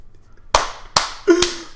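Three separate hand claps ring out, spaced roughly half a second apart, sharp and fairly close, with a brief low vocal sound near the last one and otherwise quiet surroundings.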